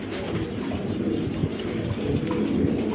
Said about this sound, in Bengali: মাশাআল্লাহ দেখার মতন একজোড়া কবুতর